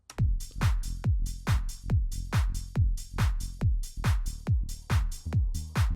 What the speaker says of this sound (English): the next bass that I'm going to look for in the preset pack is a preset called Deep Boy